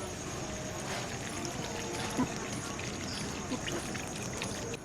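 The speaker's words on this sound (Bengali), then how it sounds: "এবার জলটা দিয়ে দেবো।" Water pours steadily into a pan of chicken keema ghugni with mashed peas, a continuous splashing gush over a bubbling simmer, with a couple of faint knocks.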